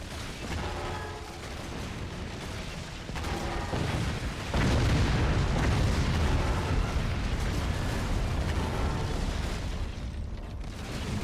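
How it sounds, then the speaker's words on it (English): Structures crumbling apart in the strategy game Forts, a sustained rumbling mass of crashing and bursting noise that swells louder midway and rolls on steadily without voices. "there goes my teammate collapsing his own base"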